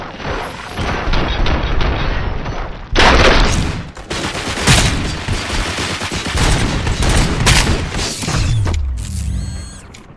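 Rapid, loud automatic gunfire and impacts crackle through a Robocop: Rogue City shootout, with a sharp booming burst around a third of the way in and sustained firing after, ending in mechanical whirs.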